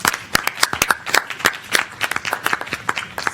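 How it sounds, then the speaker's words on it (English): An audience at a CDC health equity forum claps for its presenters, giving steady, fairly close applause that goes on throughout with no talk. "Do a final big round of applause for all of our presenters."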